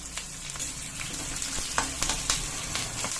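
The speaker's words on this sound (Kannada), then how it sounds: "ನೋಡಿ ಈಗ ಎಣ್ಣೆ ಕಾದಿದೆ ಕಡಲೆಬೇಳೆ ಬೇಳೆ ಹಾಕೊಂಡ್ಬಿಡಿ ಫ್ರೈ ಮಾಡ್ಕೊಳ್ಳಿ ಇದಾದ್ಮೇಲೆ ಈರುಳ್ಳಿ ಹಾಕೊಂಡ್ಬಿಡಿ" Chana dal and onion frying in hot oil for a ridge gourd peel chutney, a dense continuous sizzle with sharp crackles and pops, close up with no voices.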